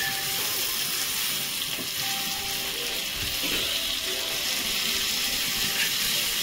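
Shingada fish frying in a pan over a lit stove, a continuous dense hiss of sizzling oil at an even level, close by, with faint low clunks underneath and no voices.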